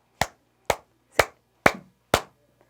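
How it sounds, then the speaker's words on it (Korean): A group of elderly participants in a seniors' exercise class claps hands in unison five times, sharp evenly spaced claps about half a second apart, each ringing briefly, with near silence between. "박수 다섯 번 시작"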